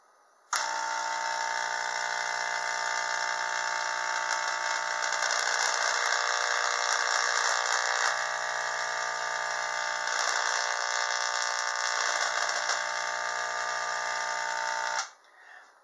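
A ZVS-driven Tesla coil runs for about fourteen seconds, giving a loud, steady, buzzing whine with rich harmonics that starts abruptly and cuts off abruptly, with faint crackling and no talking over it.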